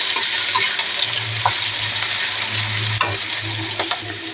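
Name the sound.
onion frying in hot oil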